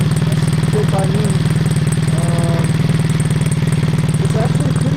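A Triumph motorcycle engine idles at about 1,000 rpm with the exhaust baffle in, a steady even chugging pulse heard from a few meters away while someone talks over it.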